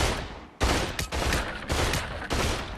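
An SMG in the VR shooter Population: One fires a few quick bursts, each a loud rapid clatter of shots with short gaps between them.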